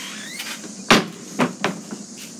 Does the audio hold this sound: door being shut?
yes